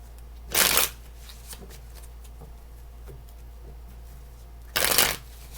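Two quick riffle shuffles of a tarot deck, each a brief crisp flutter, separated by a few seconds of quiet with faint background hum.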